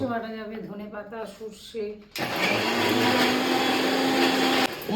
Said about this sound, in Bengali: এবার কিন্তু মিক্সার গ্রাইন্ডারে হবে